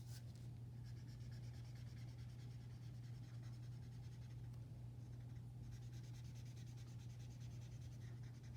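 Markers rubbing and scratching across paper while a unicorn drawing's nose is colored in, a steady close scribbling texture over a constant low hum, with no talking.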